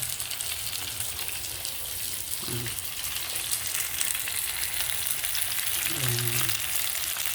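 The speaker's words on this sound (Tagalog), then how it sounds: "Piniprito ko siya mga lalab." Pompano fish frying in a pan, a steady crackling sizzle throughout with a couple of faint low voices in the background.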